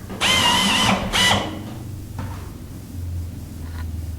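Power drill boring holes in the vertical stabilizer of a Van's RV-9 aircraft: two close whining bursts, a long one and then a shorter one, followed by quieter handling clatter and low hum.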